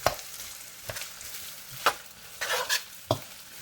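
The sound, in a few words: day-old rice tossed and frying in hot oil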